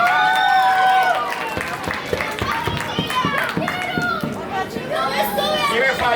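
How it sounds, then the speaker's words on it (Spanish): Crowd applause with scattered clapping and children's chatter at a book fair presentation for a girl named Juliana, mixed with a lively, noisy hubbub throughout. "Un aplauso para Juliana."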